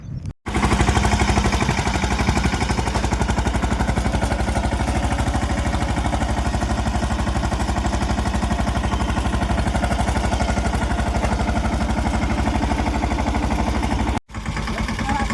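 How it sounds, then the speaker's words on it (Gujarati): A tractor standing during groundnut sowing, its engine running with a steady, loud, close chugging drone that continues unbroken for the whole stretch, without any talk. "ટ્રેક્ટર ઊભો છે."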